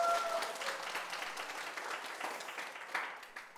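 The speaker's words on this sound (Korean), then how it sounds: "박수." A lecture-hall audience at a televised special talk breaks into applause, a fairly faint, even patter of many hands that tapers slightly toward the end.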